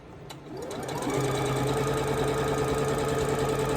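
A sewing machine runs steadily while stitching a quarter-inch seam on a quilt block, starting up and settling into a close, continuous mechanical whir with a rapid needle rhythm and no talking.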